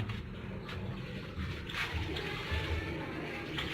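An LG washing machine taking in fresh water, with a soft, continuous rushing and trickling fill that is faint and steady, and nothing else stands out.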